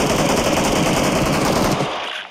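Rapid automatic gunfire from the video game PUBG, a dense loud burst of rattling shots lasting about two seconds, then cutting off abruptly with no talk.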